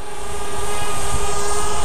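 A DJI Spark quadcopter drone flies close by with a steady, loud, high-pitched propeller whine and a sustained buzzing hum that holds throughout without a break.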